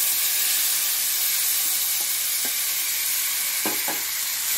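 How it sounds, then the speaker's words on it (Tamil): Chicken pieces fry in oil in a kadai over medium flame, giving a steady broad sizzle throughout with a few brief stirring clinks near the end. "அது சிக்கனை பொறிச்சு எடுத்துக்கலாங்க"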